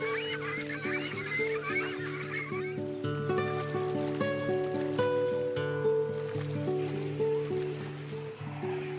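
Water birds at newly formed lakes, a crowd of clucking, goose-like calls, some near and some far, overlapping in busy bursts with no talk.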